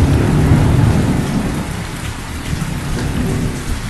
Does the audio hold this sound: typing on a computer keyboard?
no